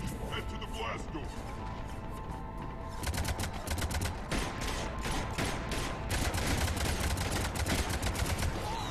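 Cannon fire in the Mass Effect 3 video game, a dense rapid barrage of sharp blasts starting a few seconds in and continuing to the end, loud and close, with a voice speaking over it.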